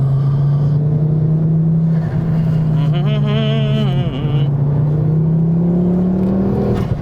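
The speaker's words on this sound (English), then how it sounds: "this car does struggle to put its power down in a straight line" A Mk2 Ford Focus ST engine drones loudly and steadily from inside the car, its pitch holding level then rising toward the end as it accelerates hard.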